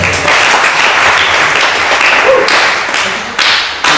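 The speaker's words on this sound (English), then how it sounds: "Please give the hardworking committee a big round of applause." A crowd applauds loudly and steadily, a dense roar of clapping that keeps going throughout.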